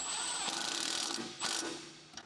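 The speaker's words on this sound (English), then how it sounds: "With a large electric impact wrench, tighten the knuckle to strut retaining bolt." A large electric impact wrench with an 18mm deep socket tightens a knuckle-to-strut bolt on a BMW 325Ci E46 coilover job, with a short burst of loud rapid mechanical rattling hammering nearby.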